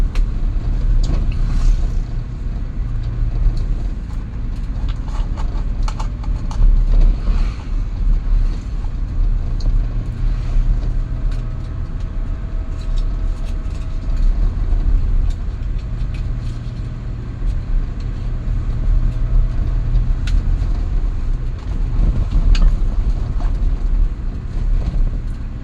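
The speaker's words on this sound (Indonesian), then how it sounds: "Banyak truk-truk tronton nih jam segini." Heavy tronton trucks rumble along a road, a deep continuous low drone with passing engine surges and wind buffeting on the microphone, heard steadily without talk.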